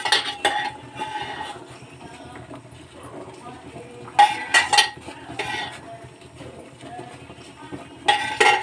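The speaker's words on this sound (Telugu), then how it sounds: "బండి పెట్టుకున్నాను, ఆయిల్ వేసుకుందాం." Clattering pan knocks and clinks sound on a stove in bursts as oil is poured in, close and fairly loud, with a voice talking between the bursts.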